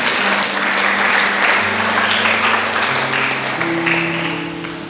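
A church congregation applauds loudly during a service, a dense, sustained wall of clapping with steady sustained tones, likely organ or keyboard, underneath, easing slightly toward the end.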